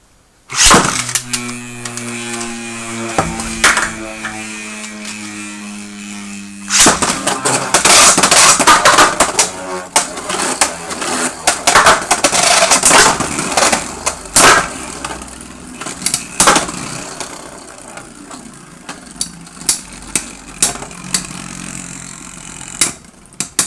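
Beyblade X tops Phoenix Wing 5-70 R and Wizard Rod 9-80 GN spin in a stadium. A steady whirring hum opens the round, then bursts of sharp clattering clashes and scrapes follow, fading to scattered clicks near the end.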